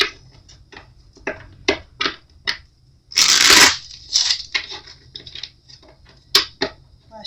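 Scattered soft taps and clicks of tarot cards being handled, then a loud burst of riffle shuffling mid-way, followed by more light card taps.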